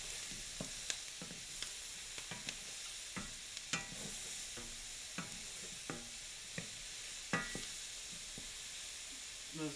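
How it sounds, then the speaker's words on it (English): Chopped onions frying in a pan for a sausage and mushroom ragu, being stirred: a soft steady sizzle broken by irregular scraping knocks of the spoon against the pan, close and moderately quiet, with no talking. "Now stir, because I don't want these onions to scorch."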